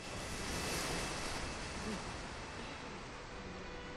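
Steady ocean surf and wind roar after a plane crashes into the sea in the Bioshock video game, a dense continuous wash of waves that holds fairly even and slightly fades toward the end, with no voices.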